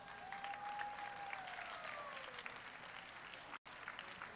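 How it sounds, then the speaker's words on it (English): Audience at a college nationals powerlifting meet applauds, a steady moderately distant clatter of many hands with a brief whistle-like tone early on and a sudden dropout near the end. "now give them one more round of applause"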